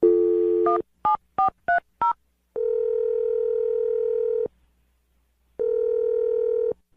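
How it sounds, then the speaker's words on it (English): Telephone dialing: a quick series of touch-tone beeps, then two long ringback tones separated by silence. "I'm going to dial his phone number right now."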